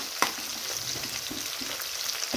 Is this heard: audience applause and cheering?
no